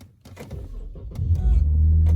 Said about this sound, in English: now let's start the car.